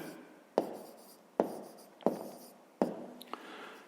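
A pen writes out a grade-5 math solution on paper: four distinct scratchy strokes, each with a quick attack and a short fading scrape, close and quiet in an otherwise silent room.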